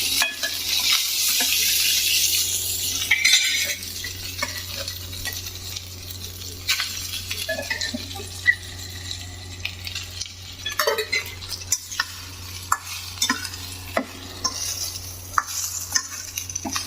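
Cooked rice being stirred into a pan of curry with a ladle, scraping and clinking against the metal, with a soft sizzle underneath and a steady low hum throughout.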